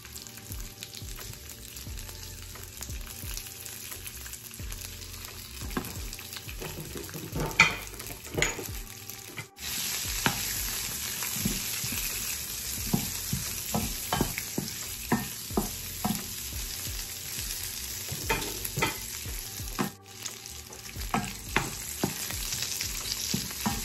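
Chorizo sizzles over low heat in a pan, giving a continuous close frying hiss while a utensil scrapes and stirs through it in irregular bursts.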